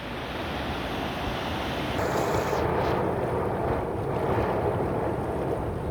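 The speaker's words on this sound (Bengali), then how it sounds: "প্রচণ্ড গতিতে পানি আসতেছে ধরলা নদীর পানি রাবার ড্যামের ওভারটেক করে" Loud, steady roar of the Dharla River rushing over a rubber dam at Patgram, Lalmonirhat, fills the whole clip, a dense broadband wash that swells slightly in the second half, with no voices.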